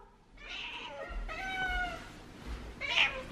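A cat meows several times indoors, close and fairly loud, with drawn-out tonal calls spaced across a few seconds and a sharper final cry; no talking.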